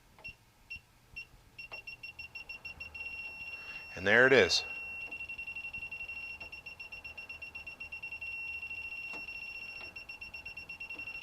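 A circuit breaker finder chirps steadily at an electrical panel while it is held against a split breaker. A brief rustle comes partway through, someone speaks briefly, and then a continuous rapid beeping follows.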